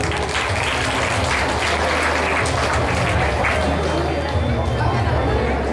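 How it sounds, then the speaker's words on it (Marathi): Applause from a crowd at a religious honouring ceremony in Manur, Nashik, a sustained dense clapping that runs steadily through the clip with some crowd murmur and speech mixed underneath. "थोड्या टाळ्या जर वाजल्या तर चांगलं होईल"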